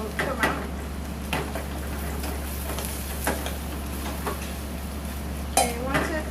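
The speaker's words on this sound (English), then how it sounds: "Cook the onions really well so the natural flavor of sweetness will come out." Onions cook in a pot for soup while a spoon stirs and clinks against the sides in irregular scrapes and taps, soft and close over a low steady hum, with faint sizzling beneath.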